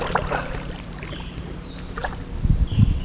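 Water sloshes and splashes in irregular strokes against a low wind rumble, with louder splashes near the end as a small boat is paddled.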